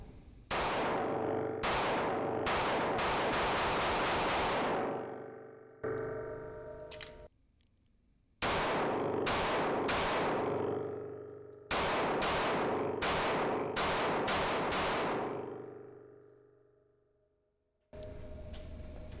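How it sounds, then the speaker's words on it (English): Shots from a Smith and Wesson CSX 9mm pistol at a range, loud close reports in quick strings of several rounds, each string separated by short pauses. "Let's get shooting and see what happens."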